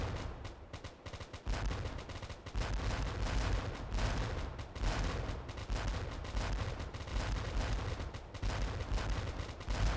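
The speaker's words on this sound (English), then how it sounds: "the powerful Union cannon atop the hill, about 36 pieces of skillfully operated artillery, responded with a thunderous bombardment of their own" Union artillery bombardment in a Civil War battle at Malvern Hill, 1862: dense, continuous booming and cracking cannon fire rolling without pause, loud and heavy throughout.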